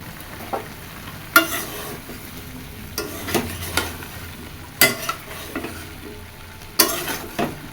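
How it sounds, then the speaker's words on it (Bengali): Vegetables cook with spices in a pan under a low, steady sizzle, broken every second or so by sharp scrapes and clacks of a spatula stirring against the pan, heard close up. "মশলার সাথে সকল সবজি কষা হয়ে যাবে"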